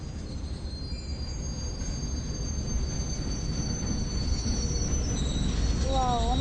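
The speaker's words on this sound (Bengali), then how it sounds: "আজ একটু ট্রেন দেখবো।" A train passes close by with its wheels squealing on the rails, a high metallic whine over a continuous heavy rolling rumble that grows slightly louder, with no voices.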